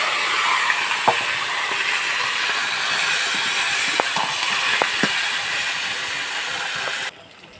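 Meat drops into hot oil and fries with a loud, steady hiss, broken by a few faint clicks and taps before the sizzle cuts off abruptly near the end.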